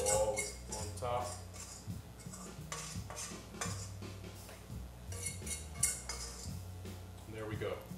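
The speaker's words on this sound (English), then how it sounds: "So I'll use my fork to kind of scrape it out, get it all out of there." A fork scrapes hot-roll dough out of a mixing bowl, giving repeated short clinks and scrapes of metal on the bowl, close and fairly steady, with a voice talking over parts of it.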